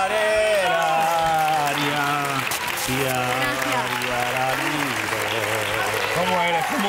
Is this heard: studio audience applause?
yes